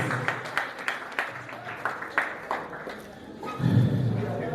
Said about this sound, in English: let us appreciate Honorable Dayo Israel with our unceasing applause